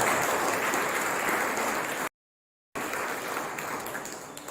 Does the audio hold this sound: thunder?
no